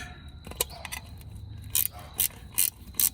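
Ratcheting wrench clicks as half-inch fan clutch bolts are tightened on a 1991 Ford F-150 4.9 inline six, a run of quick metallic clicks with a few louder bursts near the end, close by with no talk.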